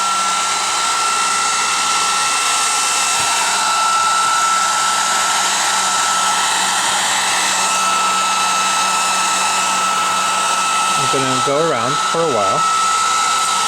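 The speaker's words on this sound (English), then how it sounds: "we want to heat the edges of the assembly up so that it's easier to lift up the adhesive" A heat gun or hot-air tool warms the edges of a cracked laptop touch screen assembly to soften its adhesive, blowing with a steady, close, continuous rush; a voice speaks briefly near the end.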